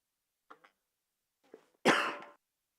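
A single harsh cough bursts out near the end, close and loud, after a few faint throat noises and soft clicks in an otherwise quiet room.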